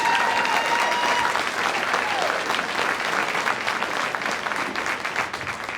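Steady, dense applause fills a banquet hall at the Wisconsin Technical College System ambassador banquet. It is sustained and even throughout, with a faint whistle early on.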